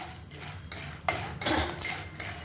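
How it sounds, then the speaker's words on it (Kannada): Popcorn kernels tossed with salt and turmeric are stirred in a pan, the spoon scraping and clinking in several uneven bursts against the metal. "ಚೆನ್ನಾಗಿ ಮಿಕ್ಸ್ ಮಾಡ್ತಾ ಇರಬೇಕು ಇದೇ ರೀತಿ"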